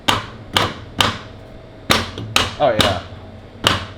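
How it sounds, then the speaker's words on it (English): Sharp metal hammer blows on a welded exhaust X-pipe during an aftermarket install on a Maserati, seven loud strikes at uneven intervals with a brief spoken remark between them. "You can beat right on that since it's welded."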